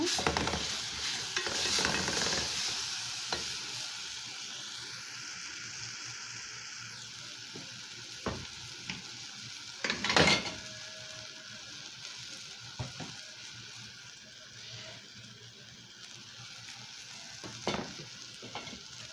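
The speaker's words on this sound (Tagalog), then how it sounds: "Gigisa na." Chopped nuggets and carrots sautéing in a pan, a soft steady sizzle with occasional stirring scrapes and clinks, fairly quiet and without talk.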